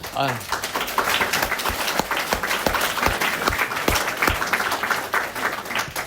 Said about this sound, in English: Apparently we're clapping today.